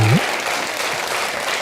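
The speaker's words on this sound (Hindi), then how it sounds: "वाह, जोरदार तालियां" Enthusiastic studio audience applause on a televised Hindi comedy show, a brief loud burst of many hands clapping that starts right after a short voice and continues steadily.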